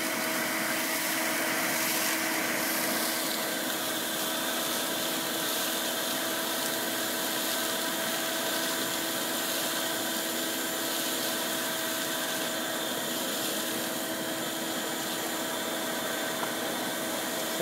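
A vacuum runs as a steady, continuous mechanical drone with a whining hum, used to clear a greywater mulch basin pipe; it stays level and unbroken throughout with no talking.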